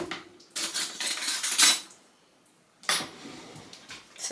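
A spoon scoops tapioca flour from a container, producing two bursts of close scraping and rustling with a light metallic clink, separated by a quiet gap.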